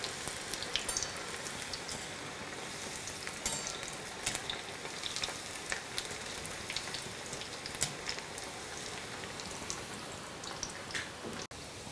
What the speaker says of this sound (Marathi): आणि मस्त खरपूस होईपर्यंत तळून घ्यायचे.